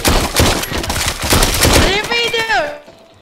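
Dense rapid video game gunfire, a loud sustained fusillade of machine-gun bursts, with a voice talking over it near the end.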